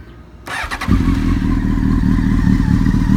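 A 2007 Honda 919 motorcycle engine cranks with a short clattering starter whir, catches, then settles into a loud, steady, close idle rumble.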